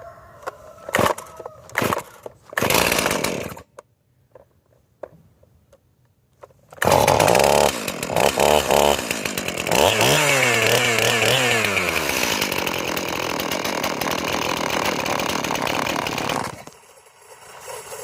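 Stihl MS 271 Farm Boss chainsaw pulled over a few times, then starting and running loudly close by, its engine note wavering and shifting before it abruptly dies into silence.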